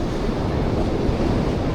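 Big ocean waves at Copacabana beach, Rio de Janeiro, roll and crash as a steady, loud broadband roar of surf throughout, with wind buffeting the microphone.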